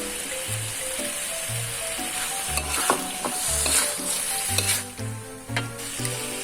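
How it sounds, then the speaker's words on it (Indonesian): Beef pieces for rendang fry in a pan over low heat with spice paste, a steady close sizzle broken by repeated scraping stirs, with melodic background music running underneath. "kita masukkan dagingnya teman-teman, satu persatu. Lalu kita aduk"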